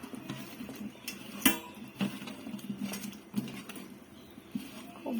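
Soft, wet patting and squelching as tangra fish is hand-mixed with salt, turmeric and oil, with faint clicks of a bowl; quiet, irregular, close and without talk.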